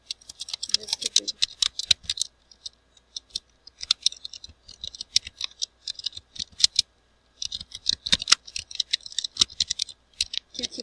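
Typing a message on a phone or keyboard, as a dense run of rapid light clicks in bursts with short pauses, close and fairly soft, with faint speech in places.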